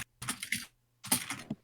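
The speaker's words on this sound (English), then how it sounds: "I can hear your furious typing over the mic, and it's making mine peak." Rapid, furious typing on a computer keyboard picked up by a microphone, in two dense bursts of clattering keystrokes separated by a short pause, fairly close and with no talking.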